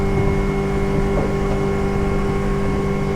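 A 2012 Hewescraft Sportsman 200 runs its Yamaha 90 outboard at full throttle, giving a steady, loud engine drone with a constant hum and wind and water rush, no talk.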